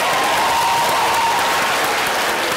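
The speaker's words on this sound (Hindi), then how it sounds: "उनके लिए तालियां" Audience at a televised poetry competition (bait bazi) applauding, loud continuous clapping from a full hall with no pause.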